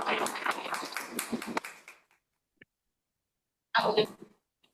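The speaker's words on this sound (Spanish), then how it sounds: "la recibimos con un fuerte aplauso" A small church audience, some joining by Zoom, claps briefly to welcome a speaker at a Bible academy class. A short burst of close clapping fades within two seconds, followed by quiet and a brief voice.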